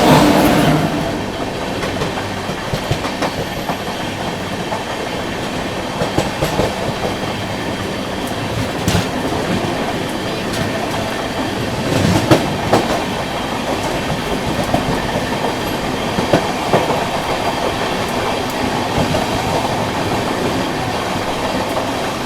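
Howrah Jodhpur Superfast Express passing close by, a steady loud roar of rail cars with rhythmic clickety-clack of wheels over track joints continuing throughout, no voices.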